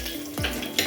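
Green chillies dropped into about two tablespoons of hot oil in a kadai for Hyderabadi bagara rice, giving a brief steady sizzle with a sharper burst of frying near the end, close and alone.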